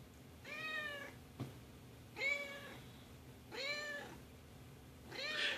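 A cat beneath the speaker in an empty room meows four times in a slow, evenly spaced series, each call drawn out and fairly close, with one short knock between the first two and no talking.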